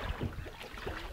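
A canoe out on open water, with a steady wash of water and wind noise and a few soft knocks and splashes close by, and no voices.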